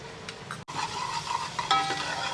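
Onion with ginger garlic paste frying in a pan for a chicken dish, a steady close sizzle with scraping stir strokes throughout, brief clinks of a utensil against the pan, no talking.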